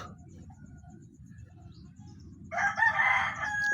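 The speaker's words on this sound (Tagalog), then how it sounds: "Uy, manok." A rooster crows loudly near the end, breaking through a low background rumble, during night spearfishing in the Philippines.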